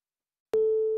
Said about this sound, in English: This is guitar.